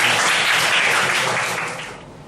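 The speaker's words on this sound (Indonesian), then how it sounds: "kita berikan aplaus untuk Angel" A classroom of students at SMKN 1 Samarinda applauds a student's presentation, a short dense burst of clapping from many hands that fades out toward the end.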